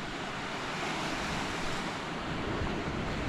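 Small one-foot ocean waves crumbling across a shallow break at dead low tide, a steady, continuous wash of surf close by with light wind noise, no voices.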